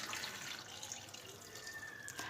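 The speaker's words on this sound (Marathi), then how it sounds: "तर यामध्ये आपण पाणी घालूयात" Water pours steadily into a cooking pot of vegetables being readied for pav bhaji, a close, continuous splashing rush with no voices.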